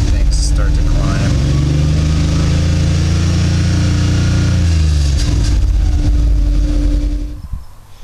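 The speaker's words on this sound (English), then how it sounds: "So as we rev up, we can see things start to climb." A Subaru fitted with a swapped-in Suzuki Hayabusa motorcycle engine revs up from idle in a garage, the engine note climbing loud and steady for several seconds before cutting off, with a voice talking over it.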